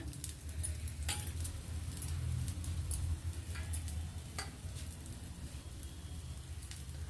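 A stuffed bun dosa cooks in oil on a pan over a medium flame, giving a soft steady sizzle with scattered faint ticks and clinks of utensils, low and continuous with no talk.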